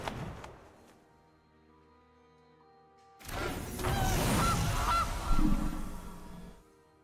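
A goose card honking in the video game Magic: The Gathering Arena, starting with a short musical chime, then a loud, sustained cartoonish honk with crunchy game effects lasting a few seconds before cutting off.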